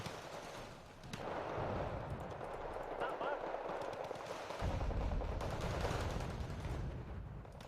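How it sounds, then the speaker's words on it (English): A .50 cal machine gun in Wargame Red Dragon rakes a mortar position with steady, dense bursts, rolling continuous gunfire and booming battle noise, loud throughout with a heavier low rumble in the second half. "Fire into a mortar with a 50 cal."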